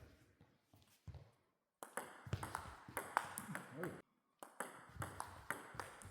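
Table tennis short-game exchange with a Tibhar Felix Lebrun Hyper Carbon racket: sharp, close ball pings off blade and table in quick clusters, a brief lull in the middle, then more rapid taps.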